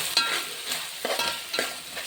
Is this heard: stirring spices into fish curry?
yes